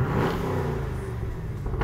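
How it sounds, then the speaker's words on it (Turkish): A Camaro drag car's engine revs close by in a short, loud burst that drops back to a lower rumble, with no voices. "Bir sesini duyalım arabamızın."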